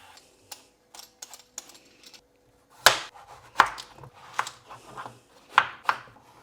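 Bottle gourd (lauki) chopped into one-inch cubes on a board: a run of sharp knife taps, faint and sparse at first, then louder, heavier chops with soft scraping between, close and without talk.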